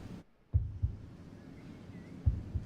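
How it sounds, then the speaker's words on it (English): Heartbeat in the game Harmony: The Fall of Reverie, a few soft low thumps in pairs after a brief hush, with a faint high shimmering rattle in the background. "A heartbeat and a gentle pearl-like rattling."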